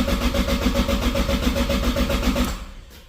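Toyota Supra MkIV (JZA80) engine cranking with a flex fuel sensor fault, a steady loud rhythmic churn of the starter and engine that holds evenly before tapering off near the end.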